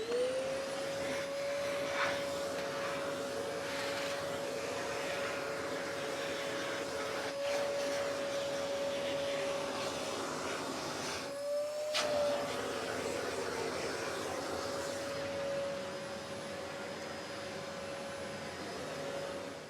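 A Dyson vacuum cleaner fitted with a dusting brush attachment runs steadily and loudly throughout, its motor whine holding a constant pitch apart from a brief dip near the middle.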